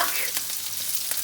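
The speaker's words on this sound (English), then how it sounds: "Potatoes are a frying." Potatoes fry in a pan alongside sauce with a steady, close sizzle and crackle, plus a couple of brief scraping or stirring clicks.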